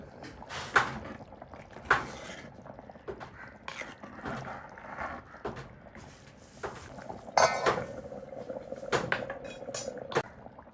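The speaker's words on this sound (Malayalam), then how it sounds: "സൈഡിൽ നിന്ന് പതിയെ ഇളക്കി കൊടുക്കാം" Fish curry of sardines and mackerel with spinach in a pot, stirred gently from the sides, giving soft scraping and occasional clinks of a spoon against the pot over quiet bubbling.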